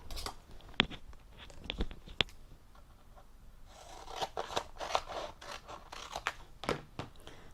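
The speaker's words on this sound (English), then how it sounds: "I'm going to cut a piece of transfer tape." Scissors cut through a piece of transfer tape, starting with scattered sharp snips and moving into a steady run of crisp cuts close up, with no voices.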